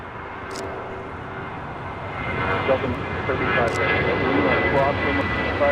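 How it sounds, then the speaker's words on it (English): The Boston Bruins team plane, Bear Force One, takes off from Los Angeles airport with a steady jet roar that builds gradually, while people talk over it and a few sharp clicks cut through. "This is Bear Force One taking off"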